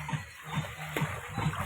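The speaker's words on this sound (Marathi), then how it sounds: "नुसतं पाण्यात उड्या, सुट्टी नाही" Several splashes of people jumping into a swimming pool, repeated roughly every half second over steady broadband water and background noise, moderately loud and close.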